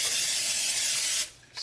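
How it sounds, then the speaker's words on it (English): Non-stick cooking spray hisses from a can onto a pan in one steady burst of about a second, then cuts off briefly before a short second puff; close and fairly quiet. "Got a little bit of non-stick spray."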